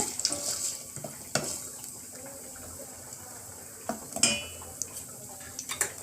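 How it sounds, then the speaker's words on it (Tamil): Mustard seeds, fenugreek and dried red chillies fry in hot oil for a paruppu rasam, a soft steady sizzle with scattered pops and light clinks of a utensil against the pan. "கடுகு, வெந்தயம் எல்லாம் பொரிஞ்சோன்னே காஞ்ச மிளகாய் சேர்த்துருங்க."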